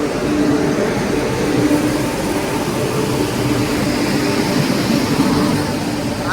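A train rolls by with a loud, steady rumble and rattle throughout, the broad roar holding an even level from start to finish.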